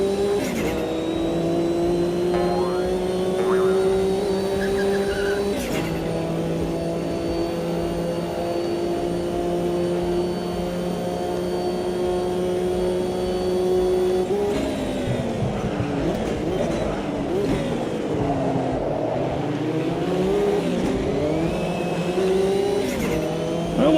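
A race car engine in the sim racing game Automobilista 2 drones steadily at high revs, loud and close, with gear changes, a sharp drop and re-rising revs around the middle as the car accelerates again.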